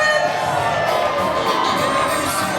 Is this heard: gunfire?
no